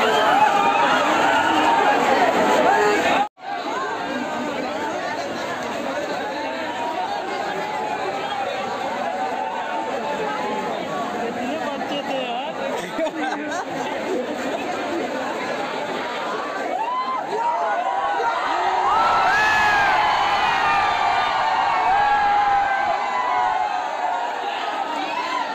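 A large crowd of about 7000 students from MG Inter College at Mahatma Gandhi PG College in Gorakhpur, a dense, continuous babble of chatter and shouting, loud and close, with a brief cut early on and rising cheers near the end.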